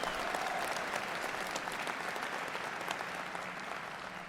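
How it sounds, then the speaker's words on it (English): Audience at a conference applauding, a dense, sustained wash of clapping hands that holds steady and fades slightly at the end, with no speech over it. "Can we get a round of applause for yourselves?"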